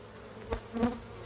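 Honey bees flying near hives in a spring apiary, some carrying pollen loads. Two short buzzing passes sweep close by against a faint hum, without talk.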